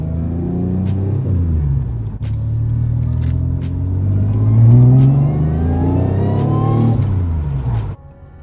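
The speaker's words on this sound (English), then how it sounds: "We're just gonna go around the block for a test drive." A supercharged Toyota Solara on a test drive around the block, its mid-pitched engine revving and pulling through gear changes, the rumble rising and falling loudly and continuously with no talk.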